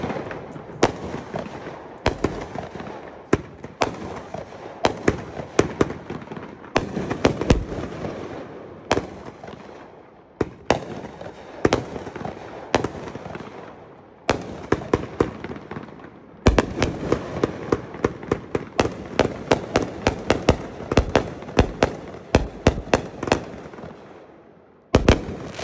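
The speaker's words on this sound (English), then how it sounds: "Number 19, Mindstorm, 500 gram cake in the triple shot." A Mindstorm 500 gram fireworks cake fires at a demo in long loud volleys of sharp bangs and crackling bursts, some in rapid clusters, with brief pauses between salvos.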